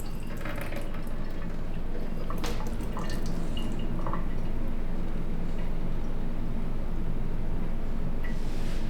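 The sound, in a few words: draining excess water from cooked corn and onions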